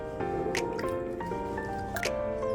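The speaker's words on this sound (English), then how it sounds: "And we're gonna rinse this on the running water." A lamb shank is rinsed under running water in a kitchen, giving a close, continuous splashing with wet drips and squishes throughout, with no talk.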